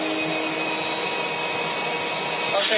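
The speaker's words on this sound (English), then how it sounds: "I'm going to hit it with the vacuum cleaner again." A vacuum cleaner sucks at the drain of a blocked washing machine, a loud, constant, close-up roaring whine that holds steady throughout.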